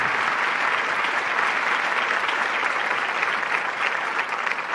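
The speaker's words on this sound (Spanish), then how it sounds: "Give the Lord a clap offering for that." Dense, continuous applause from a large church congregation in a reverberant hall, steady and loud throughout with no break.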